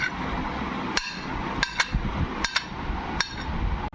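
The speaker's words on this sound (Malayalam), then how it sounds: "റോബസ്റ്റ് പഴം ഞാൻ കട്ട് ചെയ്യാൻ പോവുകയാണ്." A knife cuts through a peeled robusta banana on a board, giving several sharp, crisp taps scattered irregularly over a steady background hiss, close and moderately loud.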